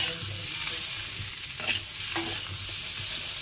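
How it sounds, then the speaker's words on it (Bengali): Potatoes with turmeric fry in a pan with a steady, fairly quiet sizzle, broken by a few scraping stirs and clinks, with no talking. "তো এটাকে ভেজে নিই ভালো করে"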